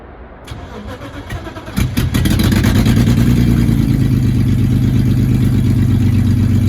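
A BMW-swapped Mazda MX5 Miata with low fuel cranks briefly, fires up and settles into a loud, uneven idle close by, misfiring as it runs.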